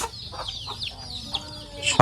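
Chickens clucking softly in short, scattered bursts as they head into their coop at dusk in a village, with a louder squawk right at the end.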